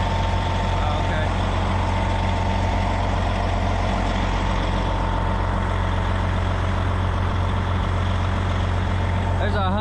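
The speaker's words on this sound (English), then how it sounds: "There's a Hyundai 960. With a big tip out bucket." A Hyundai 960 wheel loader with a big tip-out bucket runs nearby, its heavy diesel engine droning low and steady, with voices and other site noise mixed in.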